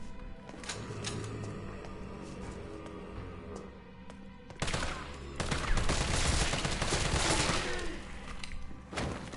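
Repeated gunshots in the Resident Evil 3 video game, sharp shots early on and then heavier bursts of fire with thuds, loud and close under occasional faint talk.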